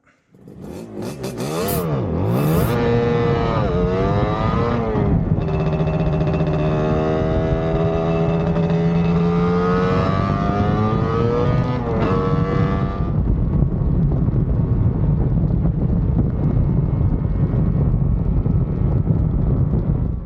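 A motorcycle out on a test ride with its engine revving and rising in pitch through the gears at close range, then settling into a steady rumbling cruise under wind noise.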